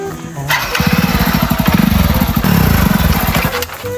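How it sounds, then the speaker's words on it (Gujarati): A recently serviced motorcycle engine cranks and catches with a rapid chugging putter for a few seconds, then stalls abruptly near the end. "કેવું કર્યું બાઇક બંધ થઈ ગયું"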